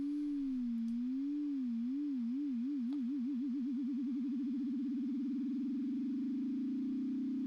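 A synth tone from Ableton Operator, its pitch wobbled by a sine LFO that speeds up from slow vibrato into a rapid flutter and then blurs into a steady, buzzy single tone, heard alone and clean.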